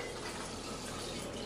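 Tap water gushes into a glass from a faucet, a steady, dense rushing stream that runs evenly for its short length, with no voices.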